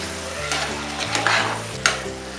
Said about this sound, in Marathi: या मसाल्यात आता हे टोमॅटो आणि कोथिंबीर आहे हे चांगले मिक्स करून घ्यायचे आहेत.